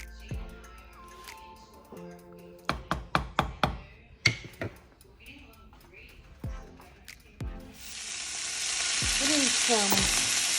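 Cut-up chuck roast pieces hit a pan with a little oil while Creole soup is being made; a run of sharp taps and clatter comes first, then a loud, steady sizzle rises and fills the last few seconds.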